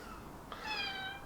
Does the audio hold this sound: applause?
no